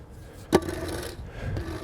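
A tool scraping Blackstick clay aside on a DuraEdge pitching mound: one sharp scuff followed by a rough, close scraping drag across the packed clay.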